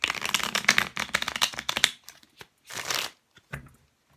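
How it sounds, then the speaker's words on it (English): A deck of tarot cards is riffled and shuffled close by, a dense flurry of crisp slaps and fluttering card edges, then a pause and a few shorter shuffles and taps. No one speaks. "I've given it a pretty good shuffle"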